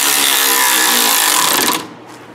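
Power tool tightening a clamp on a flex pipe exhaust repair, a loud close whirring buzz held for nearly two seconds before stopping abruptly.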